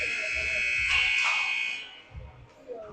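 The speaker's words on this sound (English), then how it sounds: "Buzzer sounds." A loud, steady electronic buzzer sounds at a hockey game between the Raptors and the Pittsburgh Arctic Foxes, holding a flat tone for about two seconds before cutting off, followed by faint arena noise and muffled voices.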